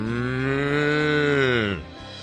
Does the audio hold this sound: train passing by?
no